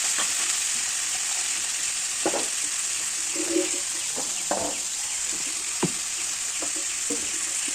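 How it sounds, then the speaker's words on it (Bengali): Cut potatoes, tomatoes and slit green chillies stirred in a frying pan, giving a steady hiss with scattered scraping clatters, no talk. "কেটে রাখা আলু, টমেটো, চেরা কাঁচা লঙ্কা দিয়ে দেবো, দিয়ে নাড়াচাড়া করে নেব।"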